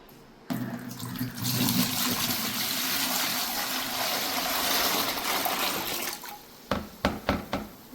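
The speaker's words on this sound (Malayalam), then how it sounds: "ഒരു ബക്കറ്റിലേക്ക് നാല് ലിറ്റർ വെള്ളം ഒഴിച്ചു കൊടുക്കാം" Four litres of water gush steadily into a bucket for several seconds, then stop, followed by a few sharp knocks and clatters.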